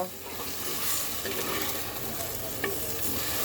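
Goat mutton curry with cumin powder sizzles steadily in a clay pan while it is stirred, making a dense, continuous frying hiss close by, with no voices.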